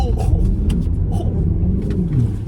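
An Alpina XB7 SUV on a snowy road course at Lime Rock Park gives a low engine rumble with tires churning through slush, steady and close, while someone talks over it.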